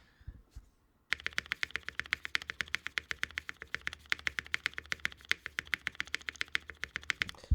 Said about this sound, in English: listen to this spacebar one more time